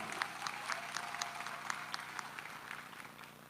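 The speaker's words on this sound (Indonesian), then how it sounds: "Kita berikan aplaus kepada Mas Gibran" A crowd applauds Mas Gibran at a political declaration event, steady clapping of moderate loudness fading slightly toward the end.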